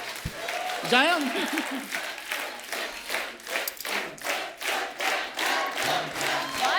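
A studio audience at The Kapil Sharma Show breaks into applause, a rhythmic wave of clapping that swells and pulses for several seconds, with a voice calling out over the start.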